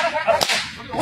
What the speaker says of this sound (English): Now this man is slapping, whipping the dreidel.